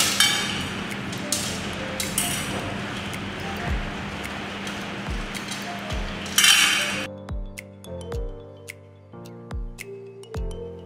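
Sand is poured from a stack of laboratory sieves, the top one 4.75 mm, into cups for a fineness modulus test: a long grainy rushing pour, then a run of sharp metallic clinks as sieves and cups are handled.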